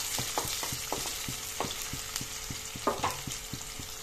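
Onions frying in a pan for a fish curry, a steady close sizzle broken by a regular, rhythmic series of spatula taps against the pan, no voices.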